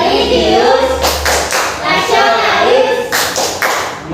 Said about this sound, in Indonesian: Teman-teman, marilah kita berdiri dan tepuk PPK.